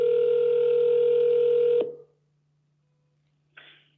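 A telephone tone during an outgoing call holds steady and loud for about two seconds, then cuts off abruptly, followed by silence and one brief faint blip near the end.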